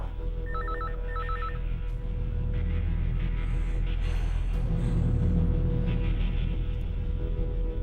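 A telephone bell rings in a domestic setting, with two short trilling bursts at the start followed by fainter background noise and room sounds.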